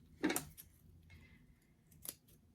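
Scissors clipping into the curved seam of a doll dress, one sharp close snip followed by a softer second cut, quiet and isolated.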